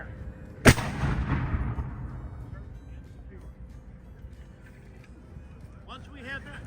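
A black powder musket volley fires at a historic village: a single sharp, loud blast cracks out and then rumbles away over a few seconds, with voices and outdoor background after it.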